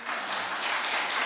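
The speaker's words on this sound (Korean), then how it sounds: "다시 한번 박수 한번 보내겠습니다" A congregation claps after a cake cutting at a church founding anniversary service, a short burst of steady, dense applause in a large room.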